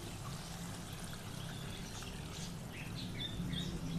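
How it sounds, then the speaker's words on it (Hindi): Yakhni stock poured into beef karahi in a pan, a steady close splashing trickle lasting several seconds with no talk. "अब इसमें मैं ये यखनी डाल दूंगी"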